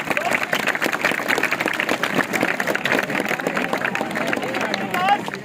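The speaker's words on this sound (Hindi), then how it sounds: "तालियां बजाएंगे" An audience of schoolchildren claps at a school magic show. The applause is lively and steady, mixed with crowd chatter and a voice talking over it.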